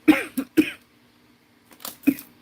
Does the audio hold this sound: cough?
yes